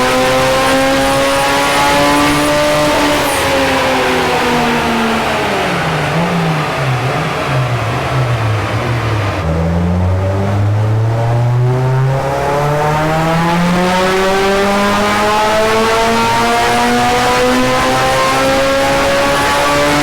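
A Ford Sierra XR4i fitted with a turbocharged Honda S2000 engine roars on a dyno, loud and close, its pitch sweeping up, dipping, then climbing steadily through a long sustained wide-open pull.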